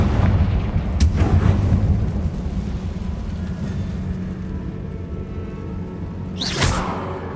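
Low booming explosive blasts and whooshing rumble from spells cast in the Hogwarts Legacy video game, with a sharp crack near the start and another swelling blast near the end over a steady roar.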